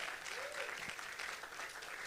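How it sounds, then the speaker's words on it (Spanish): Congregation at a church service applauds, a faint, dense wash of clapping heard from some distance, steady and unbroken for the short stretch. "Dele un aplauso fuerte al Señor"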